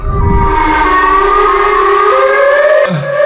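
A loud, close siren wails steadily with rising and falling tones in a Siren Head video game, then cuts off abruptly near the end into a brief low sound.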